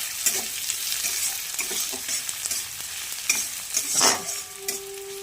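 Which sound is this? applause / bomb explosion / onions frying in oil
onions frying in oil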